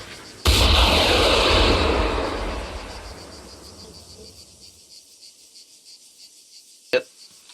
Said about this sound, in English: And backblast is clear. Rocket, rocket, rocket.